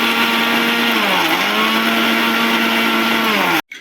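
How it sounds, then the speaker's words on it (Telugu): A mixer grinder blends ingredients with salt for pacchi pulusu, a steady loud motor whine running continuously for about three and a half seconds before cutting off abruptly. "దీన్ని మనం ఇప్పుడు మిక్సీలో తిప్పుకుందాం."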